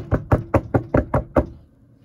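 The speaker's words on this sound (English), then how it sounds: "The crayons all knock the door." Seven sharp knocks on a door in a quick, even rhythm at a Halloween storytime read-aloud, close and clear, fading into a quiet room afterward.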